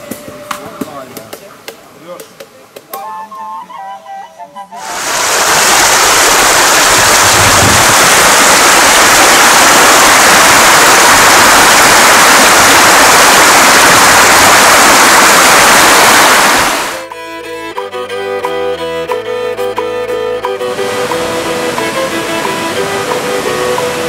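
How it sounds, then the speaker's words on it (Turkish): Waterfalls on a small river flowing through a canyon, a loud broad roar of falling water that starts abruptly, holds steady for several seconds, then cuts off amid other sounds. "Kanyon arasında akan küçük bir ırmak ve bu bölüm bölümde şelaleler mevcut."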